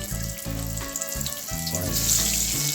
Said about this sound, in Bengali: এবার আমি এক এক করে আলুগুলো তুলে দেব